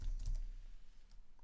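Computer keyboard typing comes as a few soft, quick key taps clustered at the start, then quieter scattered clicks, faint and close in a quiet room.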